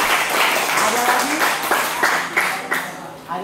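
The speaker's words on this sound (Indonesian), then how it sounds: "tepuk tangan buat Fadil" Seminar audience applauding together, a dense wash of clapping that carries steadily under a speaker's voice for a few seconds.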